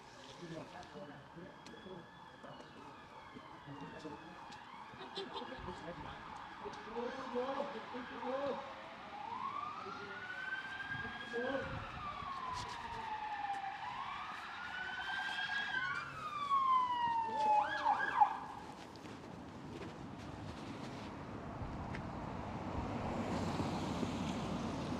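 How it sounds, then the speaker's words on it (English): Several police sirens wailing at once, rising and falling over one another at moderate distance, with a steady surf-like outdoor rush and voices talking underneath during a house eviction in Merseyside. "There's more than one siren I can hear."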